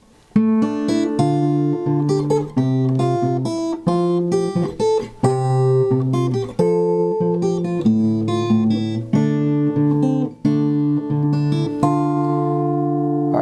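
A plucked fingerstyle guitar melody plays steadily over bass notes, with clear, ringing individual notes in a flowing phrase and no voice.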